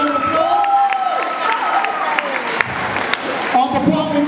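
Applause and cheering from a crowd at a 2018 holiday showcase, steady and fairly loud for a few seconds, with voices mixed in.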